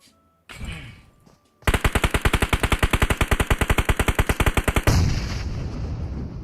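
Automatic rifle spray fire in PUBG Mobile: after a brief burst and a pause, a long rapid stream of evenly spaced loud shots lasts about three seconds, then gives way to a sustained echoing roar.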